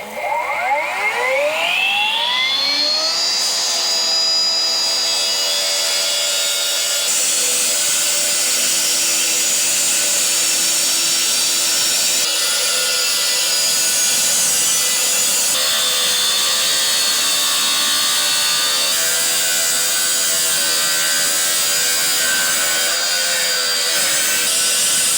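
Power saw cutting through pavement around a parking lot drain grate and frame, a sustained loud high whine that spins up at the start and holds steady throughout with slight shifts in pitch as the blade bites.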